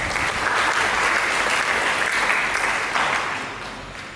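A church congregation applauds during a sermon, a loud, sustained wash of clapping from a large crowd that tapers slightly toward the end.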